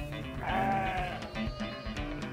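Sheep bleat in a flock, one long wavering near cry followed by shorter overlapping bleats from several animals, moderately loud with no talk.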